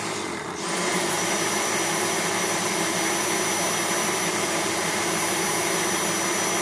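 A Dyson V6 Motorhead cordless stick vacuum runs on high speed during a static bench test, a loud steady whine and rush of airflow that starts about half a second in and holds unbroken, with no talking.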